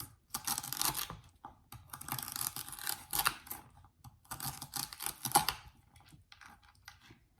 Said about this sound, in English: you want to cut up the celery in little pieces